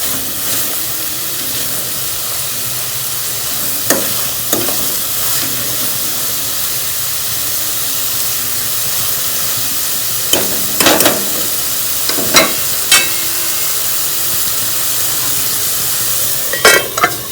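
Palak paneer sizzling steadily in a pan on a gas stove, with a continuous frying hiss and a few sharp stirring scrapes scattered throughout, close and loud with no talking.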